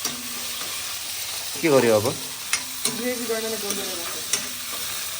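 Onions and tomatoes frying in a pan while being stirred for a chicken gravy, a steady close sizzle with scraping spoon strokes, and brief voices speaking over it.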